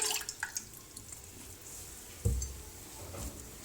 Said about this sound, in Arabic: هنحط فيها كوبايه اللبن